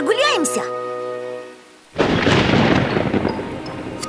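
A cartoon thunderclap during a storm: a sudden loud broadband crash that rumbles on for about two seconds, following a voice at the start and a brief near-silent pause.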